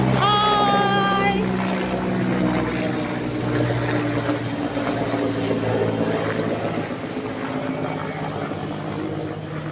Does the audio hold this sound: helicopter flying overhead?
yes